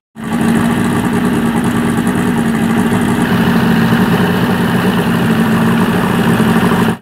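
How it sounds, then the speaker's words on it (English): A four-stroke outboard boat engine idles close by, a loud steady chugging drone that starts abruptly and runs evenly throughout, with no talking. "run it and let it idle for like 15 minutes"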